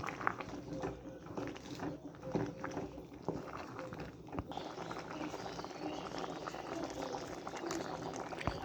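Beef and vegetable curry cooking in a pot after stirring in spice mix, a soft bubbling simmer with faint clinks and knocks, fairly quiet and steady, with no speech over it.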